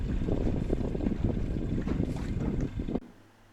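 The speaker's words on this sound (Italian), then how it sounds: "Oggi abbiamo anche la fortuna di avere un vento che è abbastanza raro, vento di Garbini" Strong, rare Garbino wind blowing during a rowing regatta in Venice, a loud steady rush of gusts buffeting the microphone for about three seconds before dropping away abruptly to a low, quiet hum.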